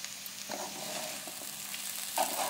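Grated sweet potato kheer cooks in a pan with a faint, quiet sizzle and a couple of soft scraping stirs. No one speaks.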